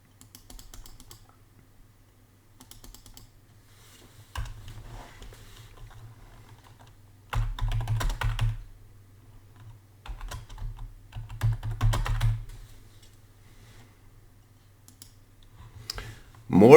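Typing on a computer keyboard comes through as soft, close clicks in short bursts separated by quiet pauses, with a low steady hum underneath.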